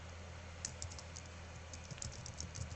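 Quick, irregular keystrokes on a computer keyboard while transcribing a historical record, soft clicks tapping along steadily and faintly with no voices.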